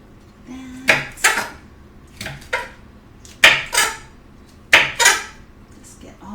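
A knife cuts through a firm aloe vera leaf in a string of sharp, crunchy chops, coming in pairs at an uneven pace, close up.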